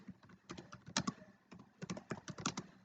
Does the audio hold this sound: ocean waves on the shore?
no